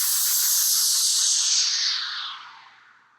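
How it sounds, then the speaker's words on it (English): A noise sweeper white noise effect from Logic, a drum and bass production tool, plays alone as a bright, broad hiss that holds steady, then sweeps downward and fades away over about three seconds. "the noise sweeper, which sounds like this."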